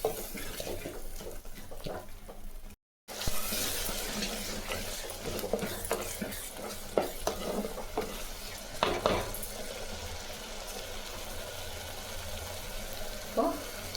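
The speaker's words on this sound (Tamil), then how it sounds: "ஒரு 5 நிமிஷம் தக்காளி ஊற்றின பிற்பாடு அரைச்சி அப்படியே வதக்கலாம்." A tomato mixture sautés in a pan for a shallot and garlic kuzhambu, with steady sizzling under repeated stirring and occasional scrapes of a utensil against the pot, continuous and close with no talking.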